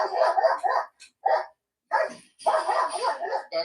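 A protection-trained dog barks repeatedly from inside a cage while being teased during training, with loud, close bursts in uneven clusters separated by short pauses, some breaking into higher yips.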